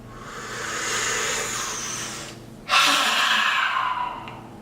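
Slow, deliberate breathing shown as an exercise: a long, steady breath, a brief pause, then a stronger, forceful rush of air, close and alone.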